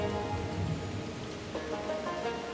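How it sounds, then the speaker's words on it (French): Rain falls steadily outside, a dense, even hiss of drops continuing without pause at moderate loudness. "Il pleut dehors."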